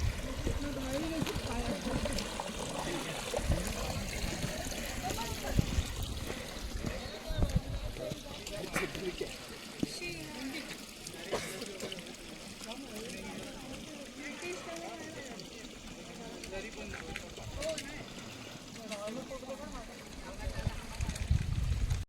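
Steady rush of water trickling and splashing through port holes at a waterfall on the Harishchandragad trek, continuous throughout, with people talking over it.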